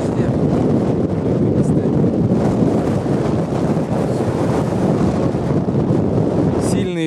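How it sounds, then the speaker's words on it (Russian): Steady roaring winter wind in Perm Krai, Russia, buffets the microphone without pause, a loud continuous rush that fills the whole stretch. "Сильный ветер."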